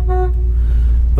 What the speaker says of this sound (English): The horn works.